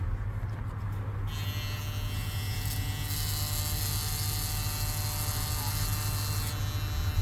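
An AC-powered hair clipper with a ceramic blade runs steadily and loudly close by, giving a continuous electric buzz with a strong hum and a bright hiss that shifts slightly as it cuts.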